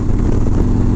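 An Indian 116 motorcycle engine pulling hard under throttle, a loud, close, rough mechanical roar held steady through a brief burst.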